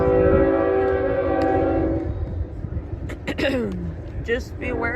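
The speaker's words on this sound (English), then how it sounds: "You can hear the train going by." A train horn sounds steadily for about two seconds near a baseball tournament game, then fades as the train rolls past under crowd noise and nearby talk.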